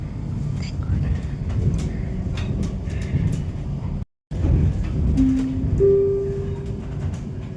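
A regional train in Germany rumbles steadily, with a brief cut partway through, then a rising electric tone as it moves, heard from inside the carriage.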